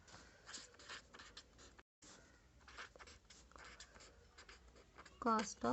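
Scratchy handwriting strokes during a maths lesson on money word problems, a series of quiet, close pen scrapes with a brief pause, and a voice briefly heard near the end.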